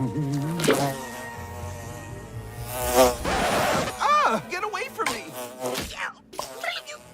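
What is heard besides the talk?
bee buzzing in the Marmaduke (2022) movie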